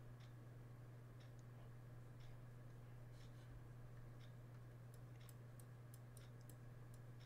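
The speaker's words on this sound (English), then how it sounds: "I hear your clock." A clock in the game Baldi's Basics ticks steadily, faint light regular clicks over a constant low electrical hum, with no voices.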